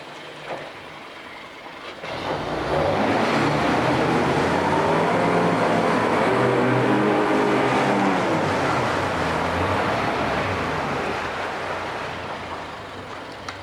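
A 2006 Mercury 50hp four-stroke outboard motor with remote controls starts and runs, its steady drone rising to full strength after a couple of seconds, then holding close and loud before easing slightly toward the end.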